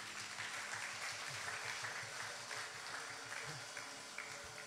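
A church congregation breaks into sustained applause during a sermon, a dense, even wash of clapping hands heard at moderate distance throughout, with faint voices mixed in.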